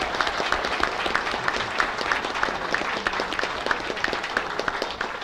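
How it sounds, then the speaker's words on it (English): Sustained, dense applause from a large audience at a school board meeting in Sullivan County, Tennessee, loud and even throughout, with scattered sharper claps standing out. "Let's give this group a big round of applause."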